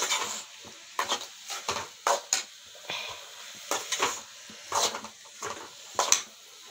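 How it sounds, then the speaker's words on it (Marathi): Okra and tomatoes are sautéed in a pan with steady stirring, a spoon scraping and knocking in regular strokes over a faint sizzle, close up with no talking. "टमाटर घातले छान परतून घेऊ"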